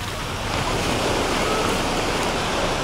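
Sea waves wash onto a beach at Diamond Resort in Alanya, a steady, close surf roar with wind buffeting the microphone throughout.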